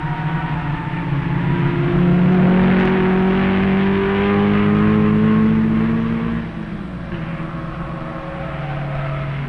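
Porsche race cars speed past during 1959 SCCA National races at Road America, their loud engine roar swelling and falling with shifting pitch as they go by, then settling into a distant drone.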